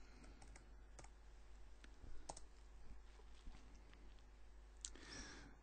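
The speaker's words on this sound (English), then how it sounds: "all I have to do is type in the information that's needed" Fingers type on a computer keyboard while entering spreadsheet data, with quiet, irregular key clicks in short bursts, close and faint, with no talking.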